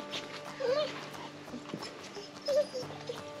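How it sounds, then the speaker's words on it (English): A dog whimpers in short, high, nasal whines, two clear ones spaced a couple of seconds apart, close by, amid faint outdoor rustling and light knocks. "this is Bailey the Wonder Dog"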